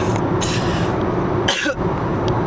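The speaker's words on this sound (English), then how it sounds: "just thinking about it when it makes me cough" A few short, harsh coughs close up, separated by brief pauses over steady background noise.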